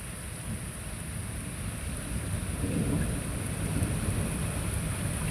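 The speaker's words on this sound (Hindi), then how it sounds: "पहले आया तूफ़ान और अभी हो गई है शुरू बारिश" Steady heavy rain pours down with a low rumbling undertone of thunder, a constant dense wash of noise with no voices.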